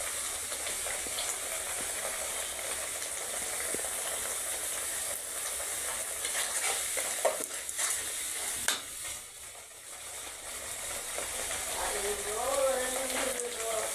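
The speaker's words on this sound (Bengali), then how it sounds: "মশলাটা এই যে কষাই নিচ্ছি। মশলা কিন্তু সুন্দর করে কষাই" Spice paste being stir-fried in a pan on a home stove, a steady sizzle and hiss with occasional scraping stirs, while someone talks quietly over the cooking.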